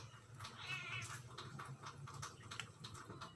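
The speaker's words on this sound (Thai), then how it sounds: "แมวมาอีกแล้วครับ" A cat meows repeatedly near an outdoor cooking spot where sticky rice is steamed and catfish is cooked in banana leaf, its cries rising above a low background rumble in short separate calls.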